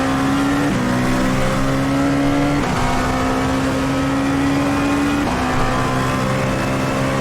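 A Dallara P217 LMP2 prototype racing at Sebring in iRacing, its engine droning loud and steady at high revs, with sharp pitch drops at gear changes about every two seconds.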